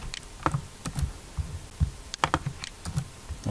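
Keys on a computer keyboard click in irregular bursts as a short name is typed, close and fairly quiet, with brief pauses between groups of taps and no talking.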